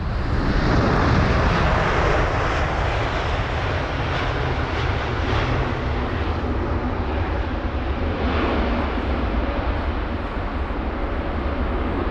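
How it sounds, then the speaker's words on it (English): A WestJet Boeing 787-9 Dreamliner from Calgary arrives at London Heathrow in windy weather, its engines a loud, steady broadband roar that stays close and constant throughout, with no voices. "Here's the WestJet 7879 Dreamliner from Calgary."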